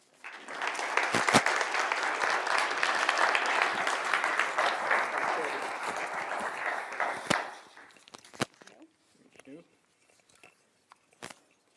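An audience at a Drake University architecture symposium claps to welcome speaker Peter Papademetriou, with dense applause for about seven seconds that then thins into scattered claps and faint shuffling.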